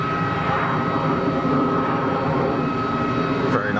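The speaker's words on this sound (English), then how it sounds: "Another BizJet intercept departure. Winded it on. Big armful of throttle." A business jet departs at full throttle from Geneva Airport, its steady, loud engine roar filling the whole stretch with a hint of whine, while a voice talks over it.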